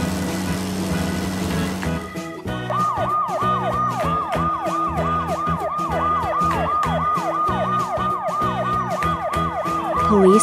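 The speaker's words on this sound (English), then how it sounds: "Police car." A police car siren wails in rapid repeating rising and falling cycles, loud and close, following a brief engine-like rumble at the start.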